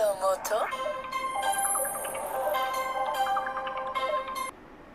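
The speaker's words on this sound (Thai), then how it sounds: "มีเสียงเรียกเข้ามา" A phone ringtone from an incoming call plays loudly during a football prediction talk show, a bright repeating electronic melody lasting several seconds, close and alone, then cutting off abruptly.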